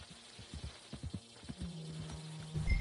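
Horse hooves clip-clop in the Red Dead Redemption 2 video game, a run of close, uneven hoof strikes for over a second, then a steady low hum as the steps fade.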